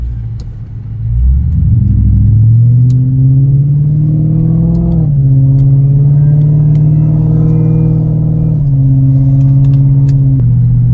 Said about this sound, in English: Big 4-door boat, swinging donuts.